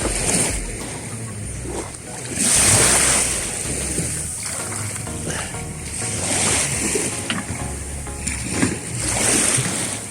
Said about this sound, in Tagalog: Inaandar na yung makina.